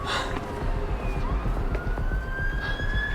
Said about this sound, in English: Ambulance ഇതാ ഇപ്പം പോകുന്നു.